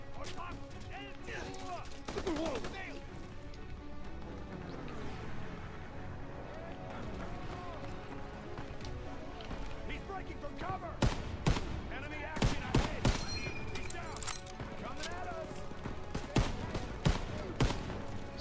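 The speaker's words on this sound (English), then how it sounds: "Who the heck is shooting at me?" Enemy soldiers fire on the player in the Call of Duty WWII campaign, with sharp shots cracking in scattered bursts and clusters over a dense battle din that thickens toward the end.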